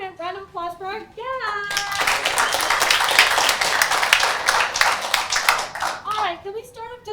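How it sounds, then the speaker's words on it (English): An audience applauds guests being brought onstage at a housing policy show, steady clapping that swells after a spoken introduction and carries on for several seconds before speech resumes over its fading tail. "give a round of applause for our guests"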